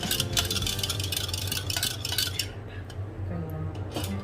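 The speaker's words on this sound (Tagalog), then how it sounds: "And then, haluin natin. Ayan, haluin natin siya." Beef stir fry with oyster sauce is stirred in a pan, a dense, steady clatter and scrape of a utensil against metal over a sizzling background, continuous and close before easing slightly toward the end.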